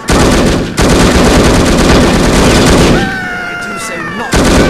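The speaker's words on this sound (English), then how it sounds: "Incoming fire!" Gunfire in the spy shooter No One Lives Forever: a loud, continuous automatic burst near the listener, then a quieter stretch with a rising electronic whine before a final blast.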